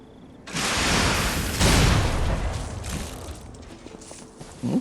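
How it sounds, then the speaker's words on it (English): An explosion shot weapon fires in the Lies of P video game, a sudden booming blast with a rumbling decay, followed by a second burst and a short clank at the end. "Alright, let's see what this explosion shot is."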